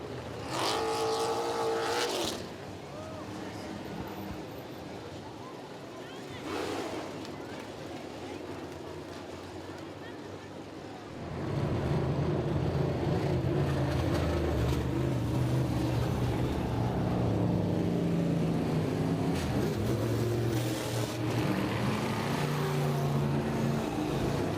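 Modified race cars at Southside Speedway roar around the track, first faint and distant, then swelling into a loud, continuous engine drone from midway on, with an announcer talking over them.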